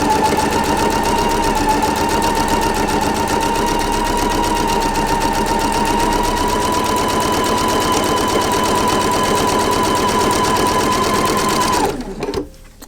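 A sewing machine runs a long continuous seam on a flying geese quilt block, a fast, even mechanical whir with a steady hum that stops abruptly near the end.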